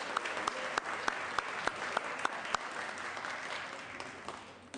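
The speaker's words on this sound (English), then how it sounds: "How about one last round of applause of appreciation and congratulations for the San Francisco Giants" Steady applause fills the Senate chamber for the San Francisco Giants, a broad wash of many hands with a few sharper claps standing out, at moderate distance and fading near the end.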